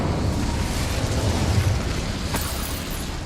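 The Incendio fire spell in Hogwarts Legacy gives off a steady, dense roaring blast of flame that holds at an even loudness throughout, with a brief sharp crackle partway through.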